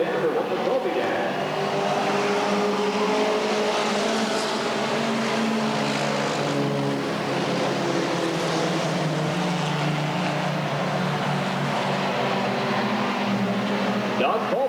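Race cars circling a short-track oval at Redwood Acres Raceway, engines droning steadily and loud throughout, with no break in the roar.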